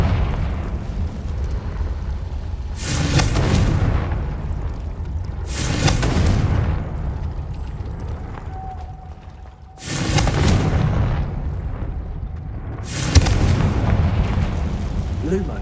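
Confringo spell blasts from Hogwarts Legacy burst in four heavy, booming explosions spaced a few seconds apart, each a loud broadband rumble that decays into a low roar.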